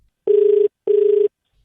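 Two identical ringback tones on a phone call, each a loud, steady buzzing beep of about half a second, separated by a short silence, heard clearly and alone.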